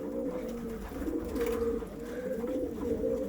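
Pigeons coo steadily at a morning feeding, soft overlapping rolling calls repeating close by over a faint outdoor background hiss.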